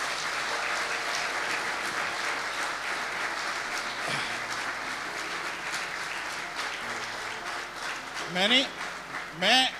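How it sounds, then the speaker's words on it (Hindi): A church congregation applauds to honour the Lord during a sermon on end times: sustained dense clapping for most of the stretch, easing slightly, with a few cheers and whoops rising near the end. "प्लीज तालियां बजा दें खुदावंद के लिए"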